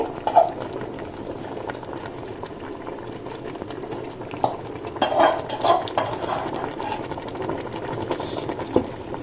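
A pot of tomato pickle with tamarind bubbles and simmers steadily, soft continuous boiling with occasional spoon stirs and clinks against the pot.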